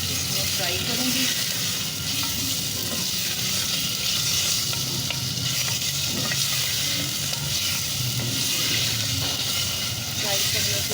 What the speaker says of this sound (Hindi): इसको मैं थोड़ा सा इसमें फ्राई करूँगी।